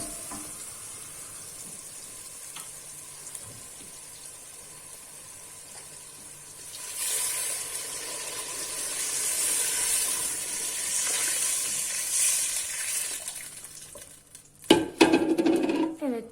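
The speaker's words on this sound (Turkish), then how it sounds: "Salçamızı da iyice kavurduktan sonra şimdi suyumuzu ilave ediyoruz" Water is poured into a pot of tomato paste sizzling over heat and stirred. A soft, steady hiss rises into a louder bubbling sizzle midway, and clattering utensil knocks near the end.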